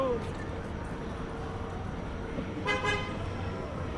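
A car horn toots briefly at a distance on a downtown Toronto street on a Friday night, a short honk rising over steady traffic rumble and city noise, with people talking.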